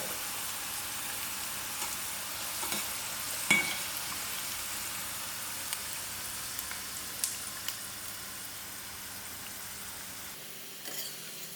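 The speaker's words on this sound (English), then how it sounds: "Okay, now my bhindi is finally done. I am going to remove it from" Okra (bhindi) sizzling in hot oil with intermittent scraping and clinks as it is stirred and lifted out, a steady close frying hiss that drops away near the end, no talking.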